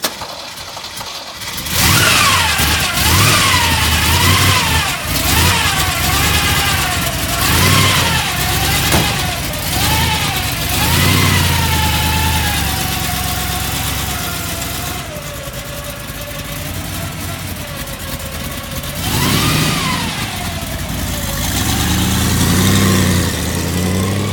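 A supercharged, fuel-injected 327 engine in a 1965 Corvette resto-mod runs loud and close, revving repeatedly in rising and falling sweeps before settling toward a steadier idle, with another blip of throttle near the end.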